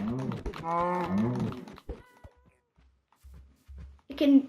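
A cow fish mooing in a PvP video game, a drawn-out harmonic lowing call repeated twice at the start, followed by sparse clicks and a short squeaky sound at the end.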